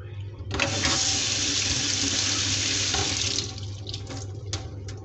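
Tap water pours steadily into a coffee maker's reservoir during descaling, a loud rushing splash lasting about three seconds before stopping, followed by a few light drips and clinks.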